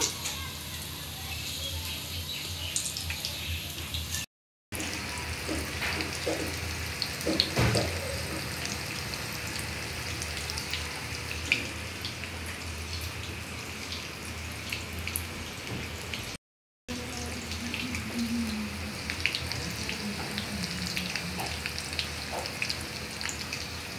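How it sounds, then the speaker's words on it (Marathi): Colocasia leaf rolls (aluvadi) deep frying in hot oil, a steady soft sizzle and bubbling with scattered pops and small clinks, moderately close, with no talk over it. "आता एक वडी आपण यात सोडूया आणि यांना आपण डीप फ्राय करून घेऊया।"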